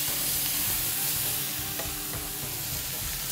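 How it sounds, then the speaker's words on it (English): Venison oryx tenderloins sear in an oiled iron skillet, a steady close sizzle with faint stirring clatter running throughout, no talking. "While we continue searing these"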